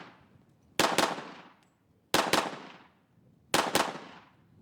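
Three bursts of paired gunshots ring out on a Navy SEAL shooting range, each double crack sharp and loud, followed by a short decaying echo and a pause before the next pair.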